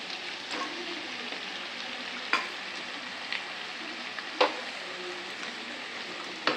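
Bitter gourd pieces sizzle steadily while frying in a pan with a little oil, a dense broadband crackle with a few sharp stirring clicks and scrapes, close and moderately loud, no voices.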